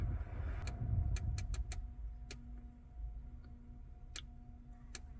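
Wiper motor on an Audi A4 B8 or B9 raising its blades into service position, heard as a string of sharp mechanical clicks and ticks over a low idling hum inside the car, with no talking.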